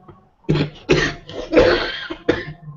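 A close series of about five harsh, throaty coughs in quick succession, with brief pauses between bursts.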